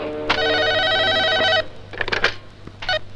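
A telephone rings loudly and close in a steady electronic burst lasting over a second, followed by fainter handling clatter and a short second ring.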